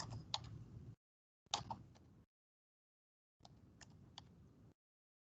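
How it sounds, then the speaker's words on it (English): Keys clack on a computer keyboard in three separate bursts of quick, irregular typing, close and fairly quiet, with silent gaps between the bursts and no speech. "typing on this keyboard"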